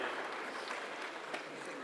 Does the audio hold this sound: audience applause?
yes